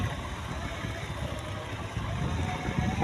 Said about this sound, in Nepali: ए त्यो पानी नि झन् पो पानी त ठुलो आउँदै गयो त